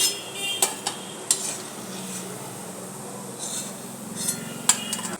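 Chhana jalebi fry in a pan of oil with a gentle, steady bubbling sizzle, punctuated by a few sharp metallic clinks and scrapes of a utensil against the pan.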